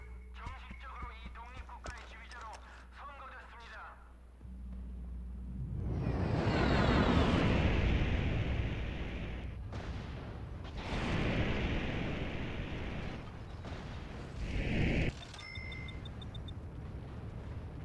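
Explosions as a listening post is destroyed in the PS2 game Mercenaries: Playground of Destruction: a deep, roaring blast swells and rumbles for several seconds, followed by further booms and debris, after a short stretch of quieter sound.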